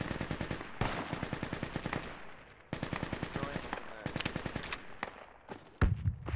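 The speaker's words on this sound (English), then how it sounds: "they're shooting from far away." Rapid automatic gunfire rattles through a spec ops squad shooter game in sustained bursts with short breaks, loud and dense, ending with a heavier blast.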